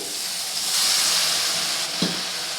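Steady broadband sizzling of masala frying in a pan for mushroom gravy, with a brief scraping knock of stirring near the two-second mark; no voices.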